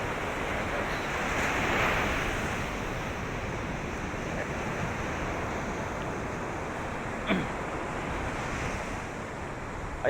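Sea waves wash steadily onto a beach in Zambales, a broad continuous surf roar with wind buffeting the microphone and one brief sharp tap near the end.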